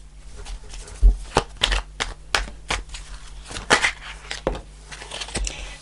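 Tarot cards being shuffled by hand, a run of crisp riffling and tapping bursts with irregular rhythm, close and fairly loud over a faint steady hum.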